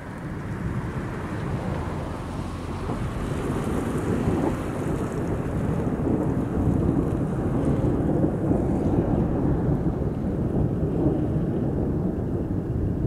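A thunderstorm in Palazzolo Acreide, Sicily, brings a steady, dense wash of heavy rain and wind with low rumbling thunder underneath, constant and fairly loud throughout, with no voices.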